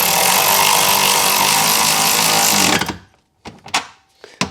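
A power tool whirs loudly and continuously while driving bolts into a Subaru tail light, then cuts off abruptly, followed by a few short close clicks and taps.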